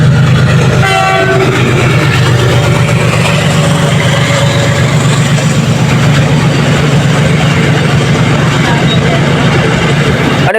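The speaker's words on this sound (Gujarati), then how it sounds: "રેલગાડી આવી હોરણ મારતી વગી" A short train horn blast sounds at a level crossing, followed by a loud, steady roar and rattle of a train passing very close by.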